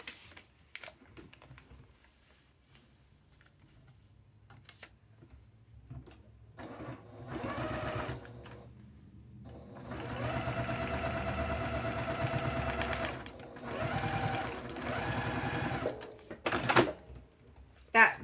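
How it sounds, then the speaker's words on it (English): A sewing machine stitches in short bursts, then a longer steady run and a loud mechanical clunk as its automatic cutter trims the thread, with a person talking over parts of it. "Big noise is my machine cutting the thread for me, in case you're wondering."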